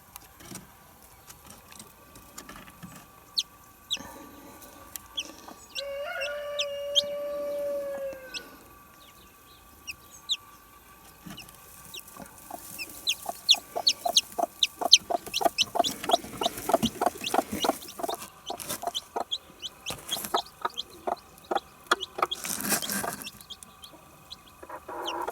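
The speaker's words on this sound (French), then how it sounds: "C'est le petit poussin de cote-cote qui est né ce matin." Chickens clucking around a newly hatched chick, with soft, close peeps and repeated clucks in an uneven rhythm against a quiet background.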